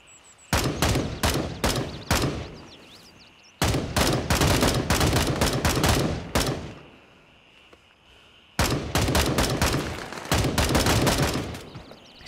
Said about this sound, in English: It's really hard to shoot this gun.